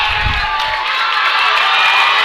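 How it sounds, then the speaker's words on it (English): A packed collegiate powerlifting crowd screams and cheers loudly for a women's lifter's attempt, a sustained roar of high-pitched shouts and whoops, with a brief low thump at the start. "the crowd is screaming wildly"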